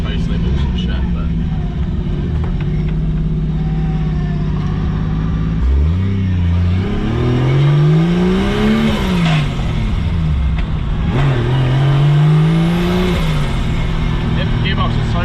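A Nissan R32 Skyline with an RB30DET engine drives along, its engine drone loud and constant. The revs climb and drop twice as it shifts through the gears, with voices talking over the engine.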